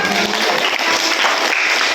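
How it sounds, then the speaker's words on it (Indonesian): Classmates applaud in a classroom, a short burst of dense, even clapping heard up close and fairly loud. "Oke, beri tepuk tangan dong."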